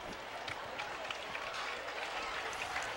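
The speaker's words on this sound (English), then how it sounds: "And fans clapping for him here." Fans applaud at a high school football game, a faint, sustained patter of clapping from a distant crowd, with scattered voices mixed in throughout.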